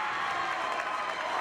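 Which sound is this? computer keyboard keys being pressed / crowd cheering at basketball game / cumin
crowd cheering at basketball game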